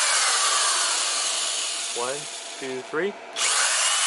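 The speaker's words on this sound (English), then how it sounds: "I'm going to count to three and start the drill." An electric drill powered through an inverter from a CYCLENBATT 12V 100Ah LiFePO4 battery, with a heater running, whirs in three short revving bursts over a steady broadband hum; a voice counts beforehand.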